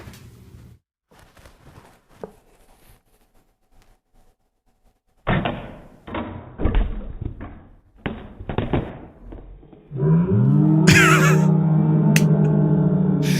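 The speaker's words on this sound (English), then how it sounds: "That is the sound of the room erupting." A loud burst of crowd noise erupts near the end, many voices exclaiming together after a stretch of scattered thumps and bangs.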